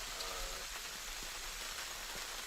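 Heavy rain falls steadily on surfaces at an outdoor para trap shooting world championship final, a dense continuous hiss with scattered drops tapping close by and no voices.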